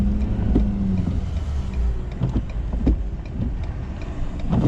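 A snow plow truck's engine runs loud and steady close by, with faint clunks and a rise in revs toward the end, no voices.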